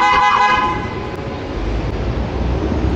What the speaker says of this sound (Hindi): लेकिन इस शहर में मैंने बहुत ज़्यादा हॉर्न सुने हैं